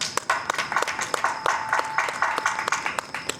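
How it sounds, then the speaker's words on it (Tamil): An audience claps in scattered, uneven bursts at a lively Madurai debate show, sharp hand strikes repeating quickly at moderate loudness with no talk over them. "இப்ப கைதட்டு வாங்க."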